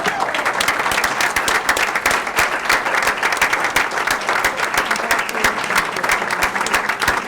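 An audience at a school district board of education meeting applauds a retiring elementary school employee honored for 40 years of service: sustained, even clapping from many hands, moderately loud and close, with no voices.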